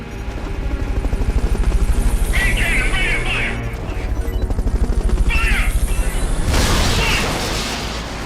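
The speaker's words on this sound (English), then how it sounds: "Fulton recovery subject confirmed onboard helicopter." A helicopter's rotor thumps steadily and loudly throughout in Metal Gear Solid: Peace Walker, with brief bursts of electronic radio chatter and a burst of noise near the end.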